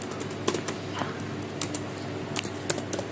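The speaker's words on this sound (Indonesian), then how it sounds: "Sama, kita ketikkan" Keys clatter in quick, irregular bursts as someone types on a laptop keyboard, with sharper clicks standing out over a steady low hum; no voices.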